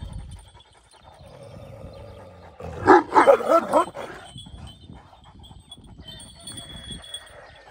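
Dog barking during a training session, a burst of several loud, close barks in rapid succession mid-stretch, with quieter handling noise and faint background sounds before and after.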